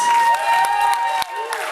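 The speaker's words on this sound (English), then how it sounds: "everybody, give him a round of applause" Roast audience applauding a roast master called up on stage, a wash of clapping and crowd noise heard through a steady tone and some background chatter, fairly loud.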